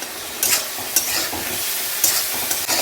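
Ginger paste frying in hot oil in a pan for a Bengali cabbage dish, a steady loud sizzle with several sharp scraping strokes of a spatula stirring it, close up and alone.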